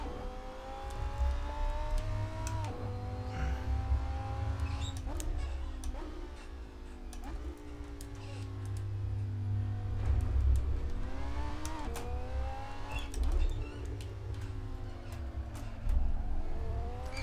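A car engine in the Assetto Corsa racing simulator climbs steadily in pitch through each gear, then drops sharply at every upshift. The shift cycles repeat about every two to three seconds, loud and continuous, with no talking.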